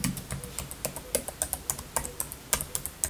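Crisp, light clicks from a Microsoft Designer Compact Keyboard tap out in a quick, fairly even rhythm, close up and alone, with no talking.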